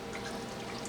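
Washed beans tumble into a cooking pot with a dense, continuous watery rush, loud and close for one unbroken second.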